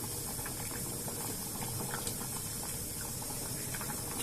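Beans simmer in a covered pot, giving a continuous low bubbling and steamy rumble that stays steady throughout with no voices.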